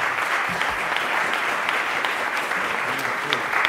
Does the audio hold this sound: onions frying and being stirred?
no